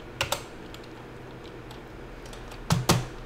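Commands are typed on a computer keyboard, two quick pairs of crisp key clicks at the start and end with a few faint taps between, close by and with no talk.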